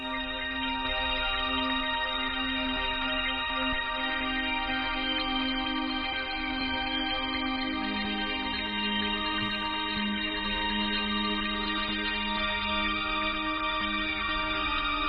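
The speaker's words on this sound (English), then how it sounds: "this second pad slash synth sounds like this" A sustained pad synth built with the Tantra plugin in FL Studio for nostalgic lo-fi house, holding steady, dense chords at an even level throughout with a soft low end beneath.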